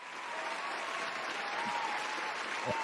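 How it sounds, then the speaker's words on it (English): Audience applause in a live podcast recording, steady and full throughout, with a faint voice or two briefly audible underneath. "We'll let that applause finish now."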